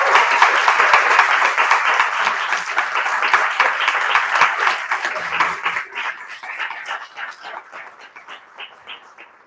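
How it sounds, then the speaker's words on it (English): An audience at an evening forensics showcase gives its performers a full round of applause, thick clapping at first that gradually thins into scattered claps and fades out. "if you all wouldn't mind joining me in another round of applause for all of our performers this evening"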